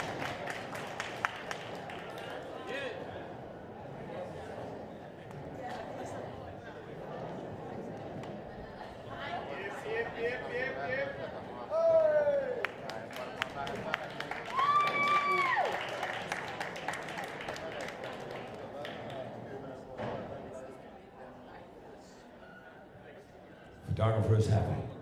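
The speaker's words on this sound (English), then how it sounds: "Big round of applause." An audience at a street workout championship applauds and cheers a congratulated athlete, the clapping and crowd chatter running under an announcer's amplified voice, with a louder burst near the end.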